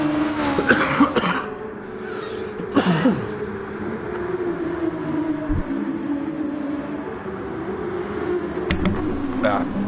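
Several harsh coughs burst out near the start, close and loud over the steady whine of racing cars in GT Sport at Fuji, with a voice talking around them.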